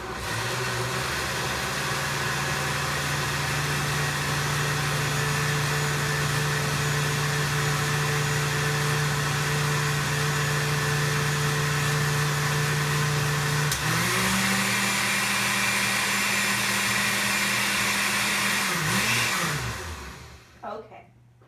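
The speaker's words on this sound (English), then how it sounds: "Put the lid on, and we're just going to blend it till smooth." A blender whirs loud and steady for about twenty seconds as it purees black beans and water, its motor pitch dipping slightly midway before spinning down and stopping.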